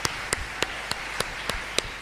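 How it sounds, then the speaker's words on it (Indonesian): In a church congregation, sharp isolated claps ring out at an even, slow beat, roughly seven crisp slaps over a faint room hiss, distant-sounding and without voices. "Tepuk tangan padaku."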